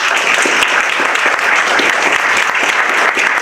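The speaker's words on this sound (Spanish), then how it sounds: "Les pido otro aplauso para él, por favor." Loud, dense applause from an audience at an international forum on inequality, poverty and environmental crisis, sustained and even throughout without pause, close and filling the room with no speech over it.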